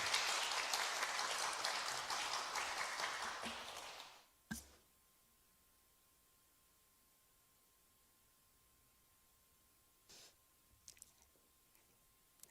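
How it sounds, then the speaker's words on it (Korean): A church congregation applauds loudly for about four seconds, then the clapping cuts off into near silence with only a few faint knocks and clicks. "박수해 주시기 바랍니다"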